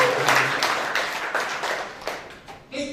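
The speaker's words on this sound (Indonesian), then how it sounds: "Yang setuju tepuk tangan." A church congregation breaks into applause at a pastor's sermon, a burst of many hands clapping that swells and then fades over a few seconds, with a few louder claps near the end.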